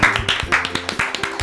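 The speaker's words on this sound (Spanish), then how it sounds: "vamos a recibir a la doctora Mónica con un aplauso" Audience applause greeting a doctor onto a TV talk-show stage, heard as a brief burst of scattered, moderately loud hand claps with a steady patter and no speech.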